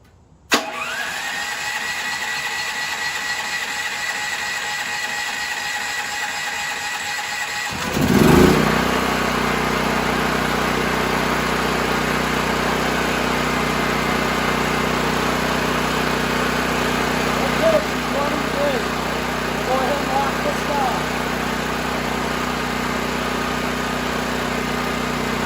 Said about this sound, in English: turn our fuel on here. Turn our valve on there, hit the back button. Hopefully she fires up.